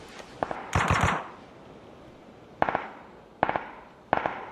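Video game gunfire from across the street: several separate bursts of rapid shots, sharp and moderately distant, spaced out with quiet gaps between them.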